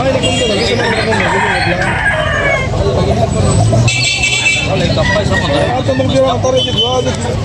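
A rooster crows loudly amid a busy outdoor scene at a chicken market, with people talking nearby and traffic rumbling steadily in the background.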